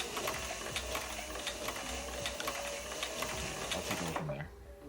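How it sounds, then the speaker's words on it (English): A sewing machine run at full speed, a fast, loud, steady mechanical rattle for several seconds that cuts off near the end, with a few faint voice sounds beneath it. "Pedal to the metal on this sewing machine."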